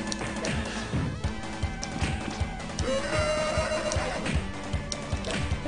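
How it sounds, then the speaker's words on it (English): A horse in the arcade game TMNT: Turtles in Time, emulated on MAME, whinnies loudly over busy game music, with clip-clopping hoofbeats and clattering effects around it; no one speaks. "Hey, it's a horse."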